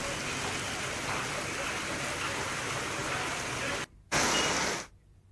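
Heavy monsoon rain pours down in Tankara, Gujarat, a steady, close hiss of falling water that briefly drops out, surges again, then stops.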